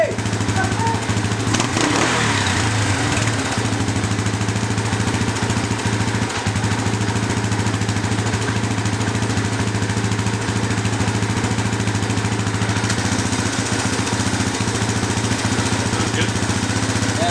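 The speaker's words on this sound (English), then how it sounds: "Fill it and see if it fires back up." A Yamaha Raptor 350 ATV engine running steadily after a carburetor rebuild, a loud, close, continuous idle drone with a low buzzing hum throughout and brief voices early on.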